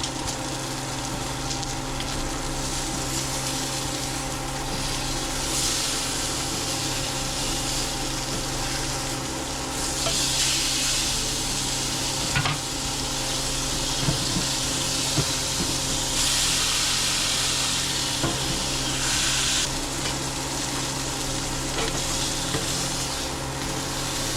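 Steak sizzles loudly in a hot cast iron skillet, a constant frying hiss swelling at times with occasional scraping clicks, no speech.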